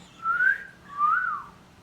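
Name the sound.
imitated whistle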